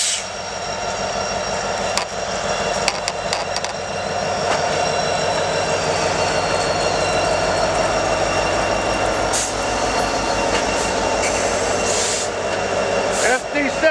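A long circus train rolls slowly along rails into Newport News, Virginia, with a steady rumble, wheel clatter and faint squeals close by. A few sharp knocks break through, and people talk faintly beneath it.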